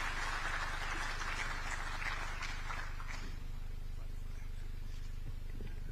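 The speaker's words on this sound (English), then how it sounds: "Let's clap for him as he comes on stage." An audience at a national address by Kenya's President Ruto at the Edge Convention Centre applauds as a speaker comes on stage: dense, steady clapping over a low hall hum that thins and fades after a few seconds.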